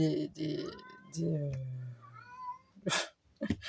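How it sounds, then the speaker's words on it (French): Cats meowing in a room, several drawn-out rising and falling cries spread across a few seconds, heard alongside someone talking in French. "il me perturbe ces chats"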